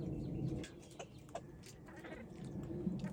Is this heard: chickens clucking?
yes